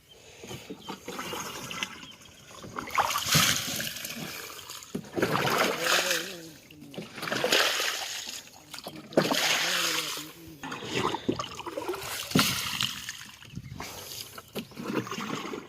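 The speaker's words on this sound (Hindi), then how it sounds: "देखिए पानी आहिस्ता आहिस्ता आ रहा है।" Irrigation canal water flows slowly into a cotton field in a steady, close rush with soft splashing, while voices talk over it.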